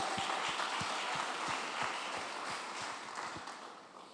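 A church congregation applauds together in a dense wash of clapping with a steady rhythmic beat, heard from some distance and fading slightly toward the end.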